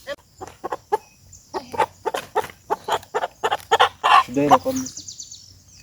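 A chicken in an African village, held before slaughter, gives a rapid series of sharp, close clucks and squawks in irregular bursts, rising into louder agitated cries near the end.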